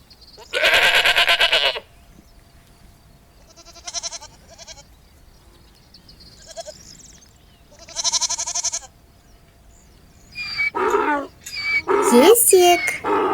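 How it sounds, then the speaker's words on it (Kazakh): A goat lets out a long, loud bleat, then several shorter, softer ones spaced apart, before a run of harsher, shrill, cry-like calls closes the sequence. "Ешкі."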